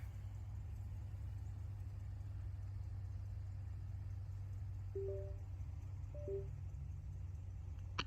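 A Cadillac engine idles quietly in the distance after a remote auto start, with a low, steady hum and a couple of faint short beeps or chirps.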